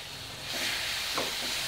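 Onion and garlic paste fries in a hot pan with a steady, hissing sizzle that grows a bit louder partway through, close and continuous, with no talking.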